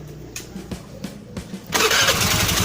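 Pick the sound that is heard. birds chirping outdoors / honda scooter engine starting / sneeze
honda scooter engine starting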